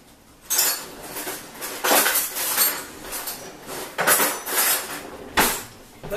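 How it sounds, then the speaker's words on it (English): Metal spoon and cutlery clattering among pots and pans in a kitchen, with several sharp clinking bursts and rattles over a few seconds, close and fairly loud, no talking. "let's grab the spoon"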